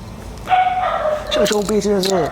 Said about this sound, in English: That dog was getting on my nerves